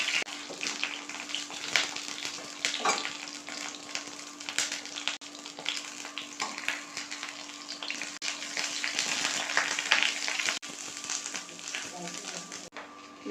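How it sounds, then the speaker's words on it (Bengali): Brinjal (eggplant) frying in a little oil in a wok, a steady soft sizzle running throughout with occasional clicks and stirring scrapes, close and even, with a faint background hum. "বেগুনটা হালকা করে ভেজে নেবো।"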